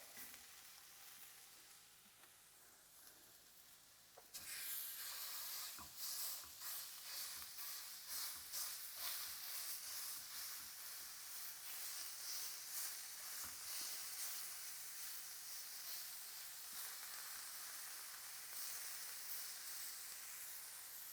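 Ground beef pressed into a pan sizzles loudly and continuously up close, after a quieter opening few seconds, with crackling bursts throughout and no talking.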